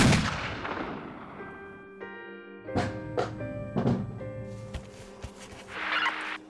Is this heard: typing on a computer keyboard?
no